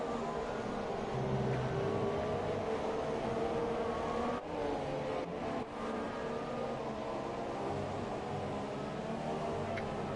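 ERL Formula 3 race cars in a race, engines droning and shifting pitch as they run close together, loud and continuous with brief dips as cars pass, no talking.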